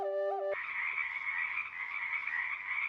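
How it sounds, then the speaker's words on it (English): Frogs croak in chorus by the water in the video game When Rivers Were Trails, a steady trilling song that rises after a short musical chime and carries on evenly throughout. "You hear the songs of frogs."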